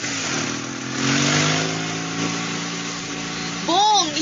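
A motorcycle engine revs and drones loudly with rising and falling pitch, blended with a voice and other talk, and a sharp tonal burst near the end.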